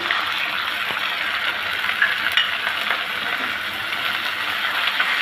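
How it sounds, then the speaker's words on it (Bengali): Ginger-garlic paste sizzles steadily in a pan while a spoon stirs it, giving a constant frying hiss with a few faint scraping ticks and no voices. "একটু ভেজে নিব যাতে কাঁচা গন্ধটা না আসে"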